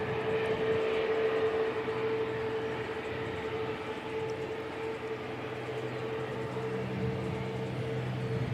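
A Cathay Pacific airliner at Christchurch Airport produces a steady, distant engine roar with a sustained tonal whine, holding fairly even from start to finish.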